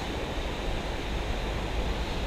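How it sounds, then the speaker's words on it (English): Floodwater overflowing a damaged spot rushes in a steady, broadband roar, loud and continuous with no voices over it. "This water is seriously overflowing"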